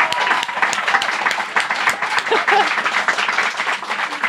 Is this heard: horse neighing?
no